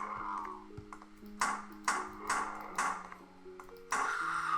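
A Unity game skeleton enemy gives a string of short, bright hurt sounds as it takes repeated hits, each a sharp tonal ping over soft ringing tones, five or six blows spaced about half a second apart.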